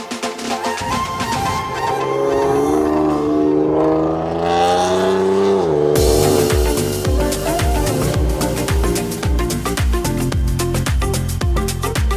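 An RWB Porsche drives on the road, its engine note climbing loudly as it accelerates, then settling into a pulsing, rhythmic drone.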